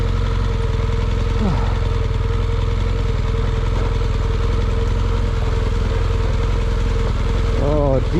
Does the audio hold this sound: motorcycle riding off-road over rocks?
yes